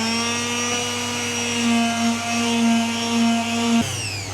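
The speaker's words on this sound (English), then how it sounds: "this sander works pretty well" A power sander runs steadily on a piece of wood, a loud close whine that holds at one pitch with slight wavering before it changes abruptly near the end, no talking.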